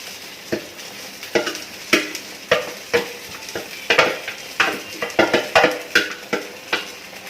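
Fried rice with soft egg being stirred in a pan over low heat, a steady sizzle broken by repeated scraping and clinking strokes of the utensil every half second or so, close and loud, with no voices.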